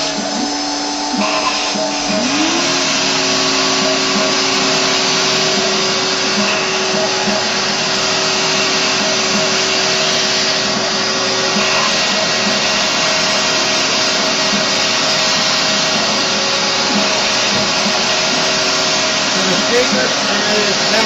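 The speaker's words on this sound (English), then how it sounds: "I didn't turn the vacuum on, I should have." Vacuum running in a workshop, a loud steady motor whine that holds constant for the whole stretch, with a brief pitch rise as it spins up early on and some faint background talk.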